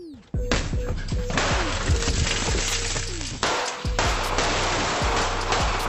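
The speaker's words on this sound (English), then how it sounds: "the homeowner fires through the outer glass door" A homeowner fires gunshots through an outer glass door during a break-in. Sudden sharp cracks burst out loud and close, followed by harsh, sustained crashing noise, with a second abrupt blast midway.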